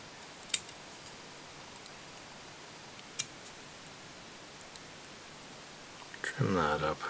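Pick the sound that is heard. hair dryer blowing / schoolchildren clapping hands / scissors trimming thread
scissors trimming thread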